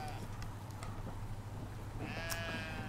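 Sheep in the video game Brothers: A Tale of Two Sons bleat, several wavering calls that swell louder near the end over a constant low rumble of game ambience.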